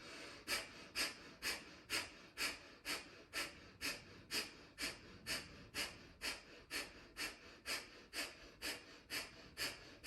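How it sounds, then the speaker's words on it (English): Breath of fire during a hip-opening yoga practice: about twenty rapid, even, forceful nasal exhales in a steady rhythm, close and clear with no talking. "Quarter breath in, breath of fire."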